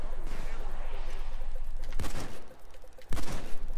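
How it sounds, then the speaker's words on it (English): Gunfire in the heist shooter Payday 2, two sharp close shots about a second apart that cut through a steady noisy background of game ambience. "Who the heck just tried to shoot me?"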